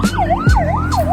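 An emergency vehicle siren wails loudly close by on a road in Ternate, Cavite, its tone sweeping up and down in a steady repeating cycle with the low rumble of traffic beneath.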